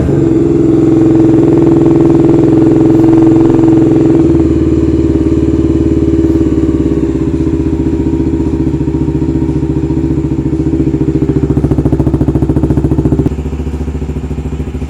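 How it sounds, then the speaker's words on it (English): A 1990 Honda GB500 single-cylinder motorcycle engine runs nearby with a loud, steady thumping idle, the pitch dropping slightly partway through and again near the end. "you can kind of hear a thump, thump, thump, thump, because it's just one piston on up and down"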